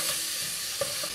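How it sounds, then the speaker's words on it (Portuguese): Small grated onion frying in melted butter and olive oil, a brief close hiss of sizzling with a light stir or scrape partway through, no talking. "Deixa essa cebola dourar e secar essa aguinha que ela solta."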